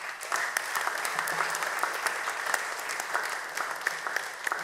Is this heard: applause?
yes